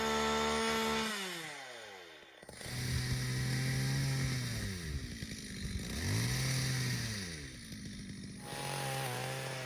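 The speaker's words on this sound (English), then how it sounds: "My husband keeps sawing, shaping the wood for the apple press." Wood being sawn by hand for a homemade apple press in a village workshop, a rough, steady motorized-sounding drone with pitch sweeping down and up in repeated strokes, close and loud with no talk.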